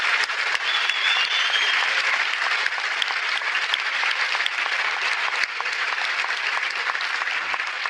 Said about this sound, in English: Please, another round of applause for Professor Dawkins and Dr. Tyson.